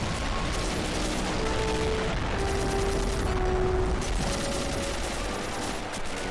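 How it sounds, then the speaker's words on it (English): An airstrike in the video game Army Men of War brings dense gunfire and rumbling explosions, a loud continuous barrage with faint tonal whines over it, heard without talk. "Oh, here comes another airstrike."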